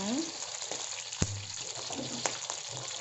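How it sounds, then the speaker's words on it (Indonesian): Oil sizzles steadily in a pan as garlic and onion sauté, with a few sharp clinks of a utensil against the pan and soft stirring. "menumis, bukan menggoreng, kita tumis"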